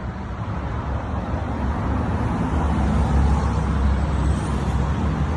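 A Mitsubishi Pajero Sport fitted with a push-button start idles after starting, a steady low engine rumble that swells slightly and stays constant throughout.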